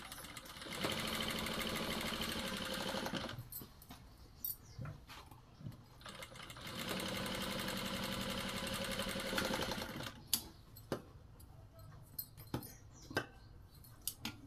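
Sewing machine stitching a blouse, running in two long steady bursts of whirring stitches, each several seconds, with quieter handling clicks and taps between and after them; no voices.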